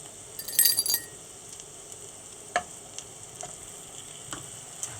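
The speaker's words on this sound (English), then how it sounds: "we're going to add the garlic into the pan" Garlic sizzles in butter in a pan, a quiet steady frying hiss broken by a burst of clinking near the start and a few soft taps and stirs.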